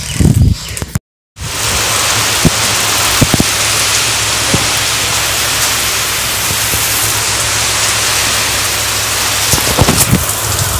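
Heavy rain pours steadily during a village thunderstorm, a dense continuous roar with occasional louder drops and knocks, close and loud throughout apart from a brief dropout near the start.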